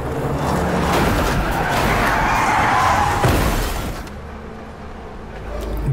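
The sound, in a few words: car skidding and crashing in a film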